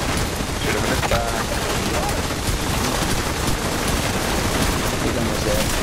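Sustained bursts of automatic gunfire aimed at a boss in The Division 2, dense rapid crackling shots filling the clip with constant noisy chatter, with speech-like activity mixed in.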